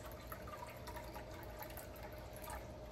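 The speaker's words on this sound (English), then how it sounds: "So I'm gonna pour this into this bowl until I get 10 ounces." Water is poured steadily from a jar into a bowl while measuring it for making soap, a continuous soft splashing trickle heard close up with no one speaking.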